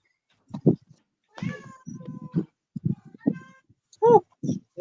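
A cat meowing repeatedly in the background, several drawn-out, rising calls scattered among a person's speech, moderately loud and fairly near.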